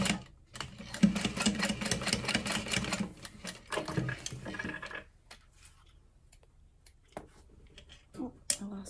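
A sewing machine top-stitching runs in a rapid, close mechanical chatter for several seconds, then stops, leaving a few quiet handling clicks and taps.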